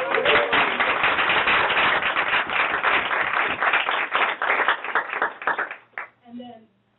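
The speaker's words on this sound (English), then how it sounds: "Can we please give them a round of applause?" A room full of people gives a sustained round of applause at a staff town hall, dense clapping throughout that thins and fades out near the end.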